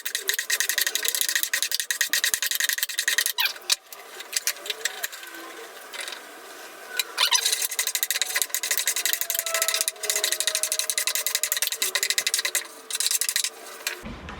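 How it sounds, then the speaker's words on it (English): Sandpaper is rubbed by hand along the edges and corners of small wooden pieces, a steady close scratchy rasping with brief pauses between strokes. "I'll hit the corners here on all the pieces, all 4 corners, with some sandpaper."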